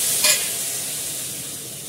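Tomato dropped into a hot pan of spiced oil for a chicken biryani, with a quick stir and scrape followed by steady close sizzling over a brief moment.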